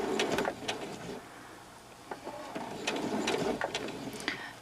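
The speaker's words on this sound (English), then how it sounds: "Do a couple of stitches to lock it, back them, forward again" A sewing machine stitches a fabric face mask, with short whirring runs of stitches separated by brief pauses, close and fairly loud.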